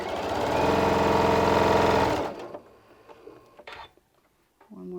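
A sewing machine stitches through a quilt block for a LeMoyne Star pattern, running steadily for about two seconds and then stopping, followed by quiet handling sounds and small clicks.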